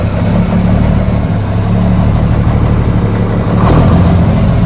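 An old show truck's engine turns over and settles into a loud, steady, chugging low rumble that carries through the whole stretch with no voices.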